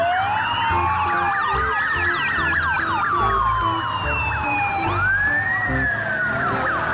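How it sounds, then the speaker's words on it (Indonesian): A toy police motorcycle wails with a looping electronic siren, sweeping up and down repeatedly in a steady cycle, loud and close with a faint rhythmic thumping underneath and no voices. "Yang ini ada motor polisi."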